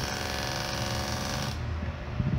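An electronic fan running without its screws fitted makes a steady buzzing, rattling hum, fairly loud and close, with a slight change in tone partway through.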